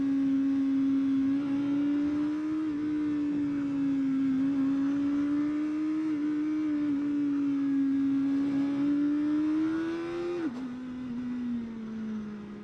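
A 2024 Kawasaki ZX-4RR motorcycle engine hums steadily in a loud, close whine that rises and dips as gears change, with one sharp shift near the end before the pitch drops.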